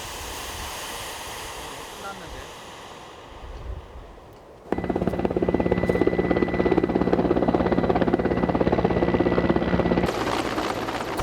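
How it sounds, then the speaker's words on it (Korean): A helicopter hovers during a police mountain rescue on a rocky peak. Its rotor wash first rushes like wind, then turns into a loud, close, steady thumping roar with a continuous engine drone. "공중에 떠있는 헬리콥터의 위력은 생각보다 셉니다."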